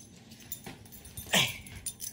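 A dog whimpering at home in the evening, a few short soft whines with one louder high whimper, close by and faint, with no talking.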